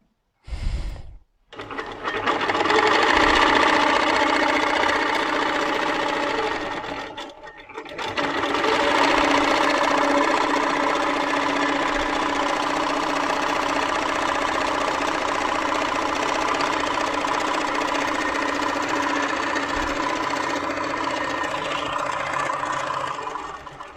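A Moxie quilting machine stitches free motion quilting with a loud, even, continuous motorized hum and needle chatter, starting after a short pause and running steadily for a long stretch, no talk.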